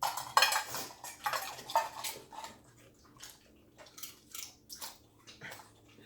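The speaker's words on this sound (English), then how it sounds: "I love the sound of dogs munching on chips." Dogs crunching quinoa black bean tortilla chips seasoned with garlic, onion and lime, a rapid run of close, crisp bites and chewing that loosens into scattered crunches.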